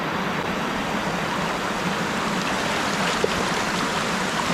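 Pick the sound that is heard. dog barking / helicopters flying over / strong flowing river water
strong flowing river water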